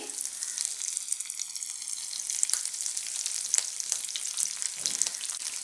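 Chopped ginger and green chilies fry in hot oil for a simple buttermilk curry, giving a steady bright sizzle with occasional crackles and light stirring, close and continuous with no talk.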